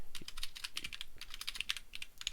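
Rapid keystrokes on a computer keyboard, a close, steady run of light clicks with no talking over them.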